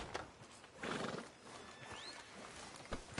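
Horse in the Red Dead Redemption 2 video game outside a sheriff's office, with a snorting whinny, a few hoof clip-clops and a sharp knock near the end, faint against light ambience.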